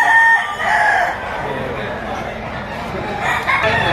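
A rooster crows at a busy chicken market in Lipa, Batangas, two long crows near and loud, one at the start and another near the end, with market chatter and voices around.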